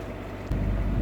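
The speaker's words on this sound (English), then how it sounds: "We're motoring because we've got no wind" A sailboat motors under engine power in calm air, a low steady engine drone with wind and water rush around it, swelling slightly louder halfway through.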